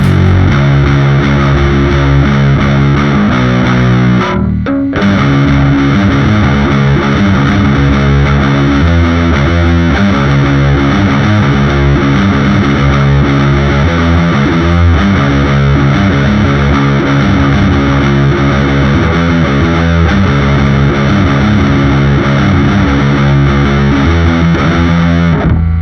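An Artist Guitars AJ12 mini bass guitar played through heavy distortion, with a loud, sustained, gritty riff running continuously and a short break near the start.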